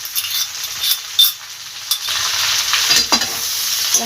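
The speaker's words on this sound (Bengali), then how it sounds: "মশলাটা ভালোভাবে কষিয়ে নেবো" Turmeric, cumin powder and ginger-green chilli paste sauté in a pan for a cauliflower stem dish, a hissing sizzle with a few spoon taps and scrapes that grows fuller partway through, close and clear with no talking.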